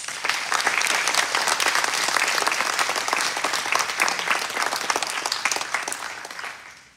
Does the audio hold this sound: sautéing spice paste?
no